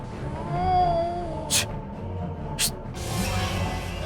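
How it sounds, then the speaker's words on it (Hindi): A scary-looking cat gives a drawn-out, tonal yowl that wavers in pitch, broken by two short, sharp hissing bursts, heard up close against a busy indoor background. "अरे बाप रे, कितनी डरावनी बिल्ली है"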